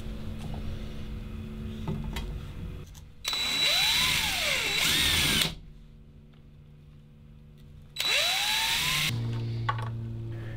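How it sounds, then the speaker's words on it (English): A power drill bores holes through aluminum sheet for trailer brake lights, two loud high-pitched whining bursts of a few seconds each, separated by quiet, with lower motor hum around them. "So I decided to make a template to ensure I had the holes drilled in the proper location in the aluminum."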